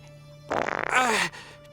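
A comic fart sound effect: one loud, sputtering blast lasting under a second, rattling at first and then turning into a wavering, squeaky tone before it cuts off abruptly.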